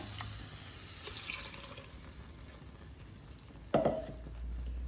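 Water sloshes and swirls inside a mixer-grinder blender jar in a steady wash, broken near the end by a short, sharp knock.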